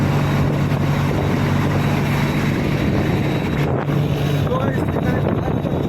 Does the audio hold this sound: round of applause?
no